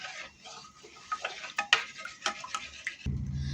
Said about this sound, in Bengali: হাতার সাহায্যে খুব ভালো করে গুলে নিতে হবে